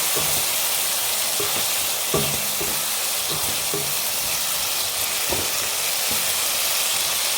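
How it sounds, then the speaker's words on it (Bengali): Spice paste for curd chicken sizzles and fries steadily in a pan, a continuous loud hiss with faint stirring scrapes throughout. "এখন এটাকে একটু ভালো করে কষিয়ে নেব"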